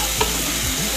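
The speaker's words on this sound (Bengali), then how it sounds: "যতক্ষণ না তেল ছেড়ে আসতে পারছি ততক্ষণ আমি মশলাটাকে কষাবো" Spice paste with Kashmiri red chilli powder frying in oil, a short burst of continuous dense sizzling with a faint stirring scrape.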